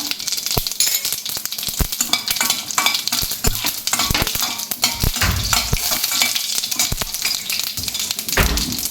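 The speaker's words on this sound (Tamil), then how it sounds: "பூசணிக்காய் பொரியலுக்கு வந்து தாளிப்பு போட்டுக்கலாம்" Tempering for pumpkin poriyal crackling in a pan, a loud close sizzle with frequent sharp pops and scraping clinks of a ladle against the metal, continuous and busy throughout, with no voices.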